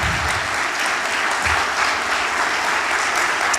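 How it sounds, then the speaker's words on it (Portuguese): A church congregation applauds together in a dense, even burst of clapping that holds steady and loud from start to finish. "Você pode aplaudir a Jesus?"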